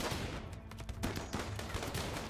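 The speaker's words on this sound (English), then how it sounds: "So those turrets are helping defend." Defensive turrets in a colony-building video game loosing rapid bursts of gunfire, a dense crackling stream of shots over a heavy rumbling background, with no voices.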